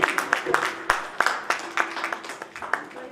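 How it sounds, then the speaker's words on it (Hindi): An audience claps at a Hindi poetry gathering's stage introduction, a sparse round of separate sharp hand claps at an uneven rhythm, fairly close and moderately loud, with no talking over it. "कृपया ताली बजाते रहें ताकि आप भी नींद से जागे रहें और हम भी"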